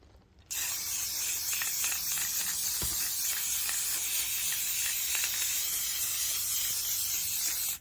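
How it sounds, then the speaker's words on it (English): An aerosol spray can of paint hisses out one coat in a steady, loud spray that runs for about seven seconds after a short quiet start, up close, with faint clicks now and then. "I like to use the spray cans. So I'm going to do that right now."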